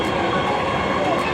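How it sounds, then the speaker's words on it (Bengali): An electric metro train runs at speed on an elevated line in Dhaka, a loud, steady rumbling roar with faint rhythmic wheel noise heard from inside the carriage. "যাচ্ছি আমরা মেট্রো রেলে চড়ে উত্তরা।"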